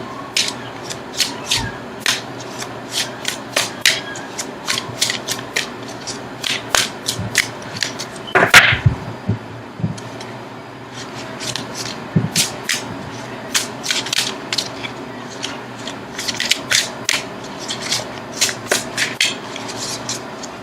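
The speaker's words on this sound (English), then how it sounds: "now I'm going to shuffle for an outcome card" Tarot cards being shuffled, a steady run of crisp riffling and slapping taps close by, with one louder knock midway and no talking.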